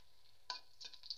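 Two dried chillies dropped into hot oil in a wok, making a few short, sharp crackling spits over a quiet background.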